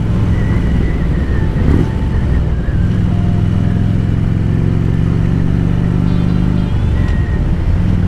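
Harley-Davidson Road King Classic motorcycle engine rumbling loudly and up close on the road, with steady low throttle and a shift in engine note partway through.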